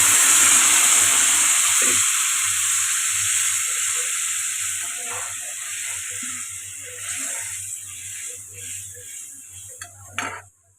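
Water hits a pan of frying tomato masala for matar paneer and sets off a loud, bright sizzle and hiss that slowly fades, with a faint clink of utensils at the end.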